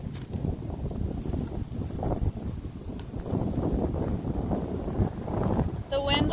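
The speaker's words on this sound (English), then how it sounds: "It's just this pasture that's really windy." Wind rushes steadily across an open pasture, buffeting the microphone with a low, continuous rumble.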